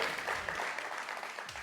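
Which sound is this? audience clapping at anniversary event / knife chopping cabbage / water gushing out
audience clapping at anniversary event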